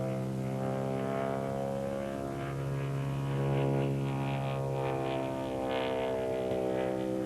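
An aerobatic airplane's engine drones loud and steady under power as it flies out of a maneuver, a continuous harmonic roar with a slight swell partway through.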